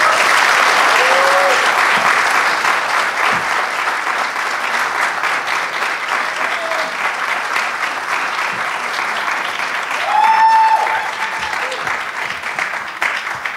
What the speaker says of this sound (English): So why don't we give her a round of applause?